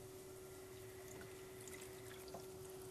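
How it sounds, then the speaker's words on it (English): Water poured into a partially opened can of black beans while cooking vegan black bean sauce: a faint steady trickle and splash over a constant low hum, with no voices. "I like to just add a little bit of water to the partially opened can."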